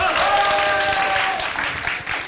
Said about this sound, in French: Acclamation pour elle, s'il vous plaît.